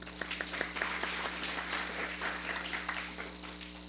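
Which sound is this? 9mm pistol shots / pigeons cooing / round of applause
round of applause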